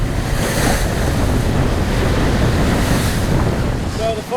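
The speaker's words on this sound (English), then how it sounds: "wind against current, it's just instantly piped up these short," Short, steep sea waves slosh against a sailboat hull in a northwest wind blowing against the current, with a loud, continuous roar of wind buffeting the microphone and churning water close by.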